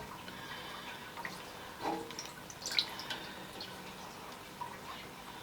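Melted beeswax drips from a cloth wrap just dipped in hot wax, a few faint, scattered drips falling over a quiet, steady room background.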